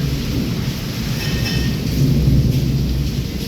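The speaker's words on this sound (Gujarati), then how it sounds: "સતત વીજળી થઈ રહી છે વરસાદ આવે છે પવન ફૂંકાય છે" Heavy nonstop rain and wind roar steadily in Wankaner during a storm, with low rumbling thunder swelling underneath and growing stronger midway; no one speaks.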